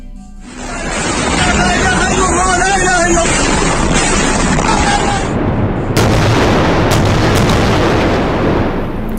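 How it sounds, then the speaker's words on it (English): Missiles explode in Gaza at night, with heavy, continuous rumbling booms and roaring blasts that fill the sound, loud and distant-sounding, and a sharp burst partway through. "You are looking at Israeli missiles exploding in Gaza overnight."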